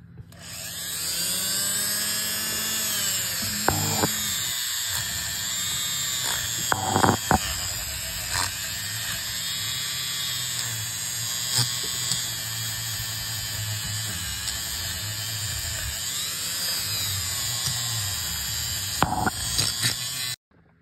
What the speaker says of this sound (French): je vais essayer avec une petite brosse comme ça, là. Une petite brosse en nylon